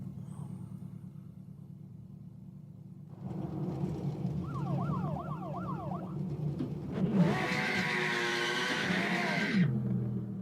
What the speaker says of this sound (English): I love the tires squeal.